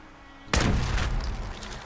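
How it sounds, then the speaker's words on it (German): A landmine detonates in Fallout 4: one sudden loud blast from silence, followed by a broad rumbling roar and debris that decays slowly. "die Mine würde ich aber trotzdem aus Spaß einfach mal zum Explodieren bringen"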